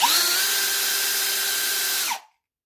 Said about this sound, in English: While pulling back with the drill, pull the trigger.